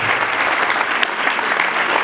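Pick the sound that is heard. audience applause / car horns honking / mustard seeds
audience applause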